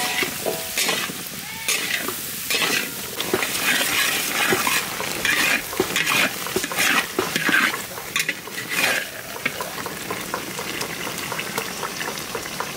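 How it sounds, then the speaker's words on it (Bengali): Bengali mutton curry being stir-fried (kosha) in a pot with salt and turmeric, vigorous irregular scraping and clanking of a spatula over a constant loud sizzle, close up, with no voices. "আর একটু কষাবো, তারপর জল দেবো"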